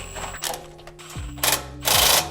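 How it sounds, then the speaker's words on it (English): A pneumatic impact gun gives short, loud bursts as it zaps brake caliper bolts on a Toyota 4Runner. Its whirring spins down between bursts, close by in a garage. "Then lightly zap these guys on and then torque it down to spec."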